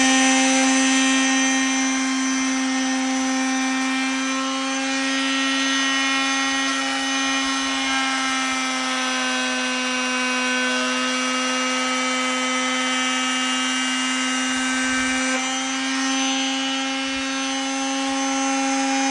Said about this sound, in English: I want to router the edge of this to give it a nice finished look so it doesn't look raw.